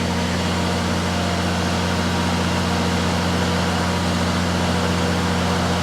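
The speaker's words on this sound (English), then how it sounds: "Here's the fan coming on." An electronic cooling fan runs on a third-generation 5.9 Cummins truck, giving a steady loud whirring roar with a low engine hum beneath it, close and without speech.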